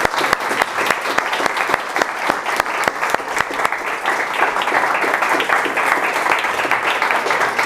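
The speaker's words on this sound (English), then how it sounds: "just come around with applause" Audience applause at a coaching event, an energetic crowd clapping loudly with sharp individual claps punctuating the steady roar, sustained for several seconds.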